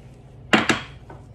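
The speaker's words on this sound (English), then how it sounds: "I'm gonna add the papaya into the bowl, just like this." Soft pieces of fresh papaya dropped into a bowl make two quick, close thuds about a tenth of a second apart, followed by a faint third touch, with quiet room tone between them.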